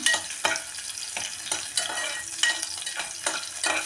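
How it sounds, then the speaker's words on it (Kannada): Chopped onions fry in hot oil in a pan while a khichdi with fenugreek and spinach is cooked, giving a steady close sizzle punctuated by regular stirring scrapes roughly every half second, with no talking. "ನೋಡಿ, ಇವಾಗ ನಾನು ಈರುಳ್ಳಿ ಹಾಕ್ತಾಯಿದ್ದೀನಿ. ಈರುಳ್ಳಿ ಸ್ವಲ್ಪ ಫ್ರೈ ಆಗಲಿ"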